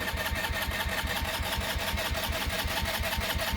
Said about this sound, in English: I gotta pull in the brake and then hit the